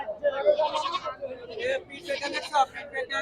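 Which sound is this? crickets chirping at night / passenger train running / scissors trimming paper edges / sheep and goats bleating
sheep and goats bleating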